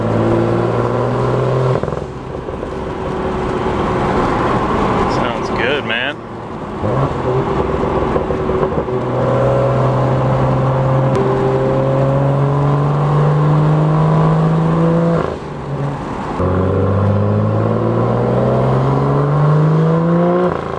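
A BMW M2 engine with a custom flash tune revs hard and repeatedly, pitch sweeping up and down with brief pauses between throttle blips, loud and close.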